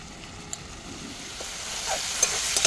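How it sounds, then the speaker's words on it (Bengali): Cumin, ginger and chili sizzle gently as they fry in a pan, a soft, steady crackle with a few small pops and scrapes of stirring, no talking. "মশলাটা হালকা হালকা কষুক"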